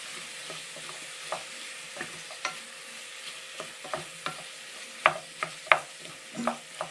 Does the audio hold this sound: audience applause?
no